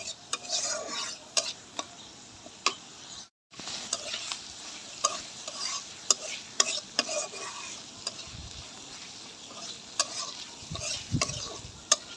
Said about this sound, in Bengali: এখন এটা আমি মশলার উপরে ভালো করে কষিয়ে নিব